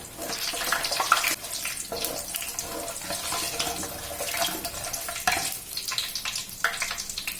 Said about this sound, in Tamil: இந்த புலாவுக்கு ரைஸுக்கு தேவையான தண்ணியை ஊற்றி நல்லா நம்ம கொதிக்க விட்டுக்கலாம்.